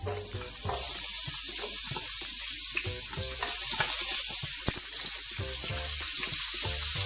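Chopped vegetables sauté in a teaspoon of olive oil for jerk shrimp pasta, a steady, close hiss of frying broken by occasional clinks and scrapes of a utensil in the pan, with no talking.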